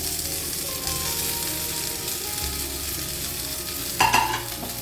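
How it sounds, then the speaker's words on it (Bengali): Steady loud sizzling and frying as mashed potato is stirred into a hot pan with onion, ginger and garlic, with a brief scraping burst near the end. "এবার আমি ম্যাশ করা আলুটা দিয়ে দিচ্ছি।"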